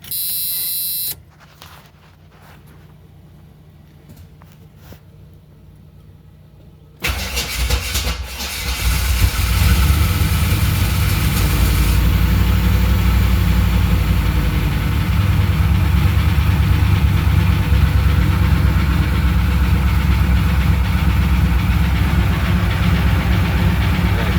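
A Pontiac Trans Am is cold-started after sitting unrun and settles into a loud, steady rumbling idle close by, following several seconds of quieter background sound.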